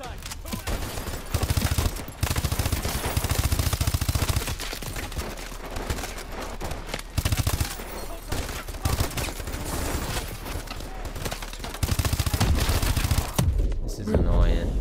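Heavy, dense gunfire from an AK-12 rifle in the Call of Duty: Advanced Warfare video game, sustained bursts with explosions and battle noise filling nearly the whole stretch before a brief drop near the end.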